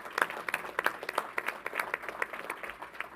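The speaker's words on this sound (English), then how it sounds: "Let's give him a round of applause." Modest applause at a state governor's vaccination press briefing: a small group claps steadily for about three seconds, with individual hand claps standing out in a light, close patter.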